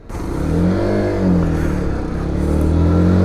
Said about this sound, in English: we're actually riding a bike on the road, not just in the yard as we usually do.